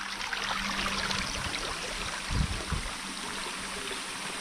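A waterfall pours steadily in the open, a constant broadband rush of falling water heard alone at a moderate distance, with a couple of brief low thumps midway.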